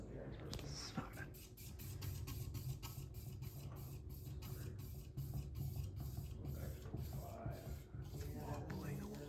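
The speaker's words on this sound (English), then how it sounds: "that is the Craftmade Pro Builder ceiling fan" Craftmade Pro Builder ceiling fan running with a slight wobble, a steady close whooshing hum with rapid rhythmic ticking throughout and faint rustles over the top.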